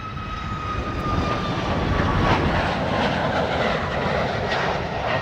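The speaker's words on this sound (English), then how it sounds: "There goes another MAX 8 200 series Ryanair." A Ryanair Boeing 737 MAX 8-200 taking off from runway 27 at East Midlands Airport, a loud, steady jet roar with a high engine whine, heard from the runway end and building slightly as it climbs away.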